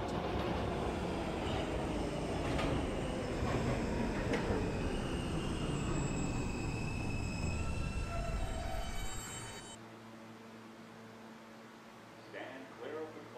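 New York City subway N train running loud and close with rumbling wheels and squealing rail noise, then abruptly dropping to a quieter hum as it slows; an onboard announcement voice talks over the ride.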